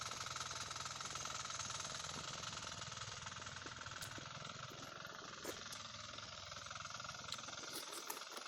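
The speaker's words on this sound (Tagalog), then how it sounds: "Hindi maingay kasi nagtraktor si pinsan ko." A tractor engine chugs steadily in a rough, rattling rhythm, continuous and fairly distant, with faint clicks and knocks over the drone.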